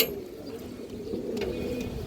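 Pigeons of fancy breeds, Satin, Baga and Kaldom among them, coo softly in a low, steady murmur from a loft, several birds overlapping continuously with faint background noise.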